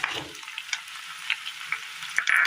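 Cucumber pieces for a Kerala curry frying in a pan, with a continuous close hiss of sizzling oil and a few light scrapes from stirring.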